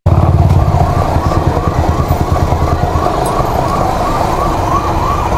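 A wailing ambulance siren sounds behind a motorcycle stuck in a traffic jam, loud and steady with a repeating rise-and-fall sweep over the low rumble of engines throughout.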